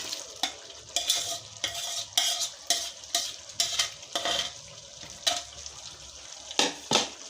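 Chicken stirred into a pot of already-fried lentils (dal) for a chicken curry, giving repeated scraping stirs over a steady sizzle, close and fairly loud, with no talking.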